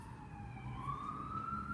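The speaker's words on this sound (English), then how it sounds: "I cannot do a break without Sirens." A siren sound effect plays faintly during a hockey card break, a short rising wail with a thin, steady pitch sweep, like an emergency vehicle heard from a distance. No talk is heard over it.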